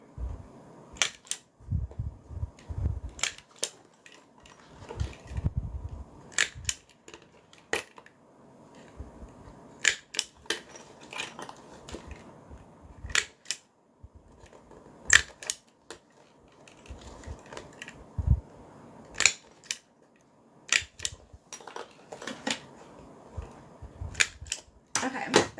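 A stapler is clicked repeatedly around a sewing project, sharp snapping punches spaced irregularly with quieter handling rustles between them, close and clear.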